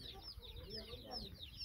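An Aseel hen clucks softly among her chicks in a poultry yard, with thin, high peeping from the chicks over low, faint clucks and a quiet background.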